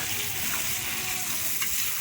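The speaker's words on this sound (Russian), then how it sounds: "Будем жарить теперь лук." Steady crackling sizzle of onions frying in a hot pan for Tajik plov, a continuous hiss with faint stirring, no voices.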